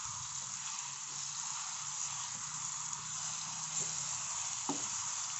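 Ground spices for a mango pickle fry in oil with a faint, steady hiss and a couple of soft stirring knocks, quiet and close.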